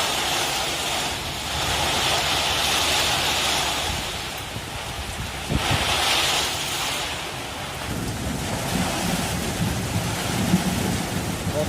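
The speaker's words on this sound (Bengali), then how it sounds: "বৃষ্টি আল্লাহ তালা দিচ্ছে" Heavy rain pours continuously while thunder rumbles and cracks, including a sharp clap midway, with no one speaking.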